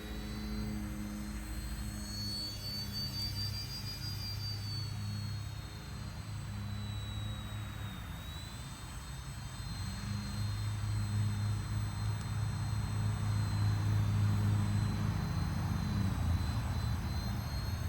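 A radio-controlled helicopter flies nearby, its motor a steady high whine with a gliding pitch that dips and returns over a constant rotor drone, growing louder toward the end.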